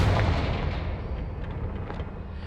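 The Confringo fire spell detonates in Hogwarts Legacy, a heavy booming blast that opens loud and rumbles away over a couple of seconds, with no voices.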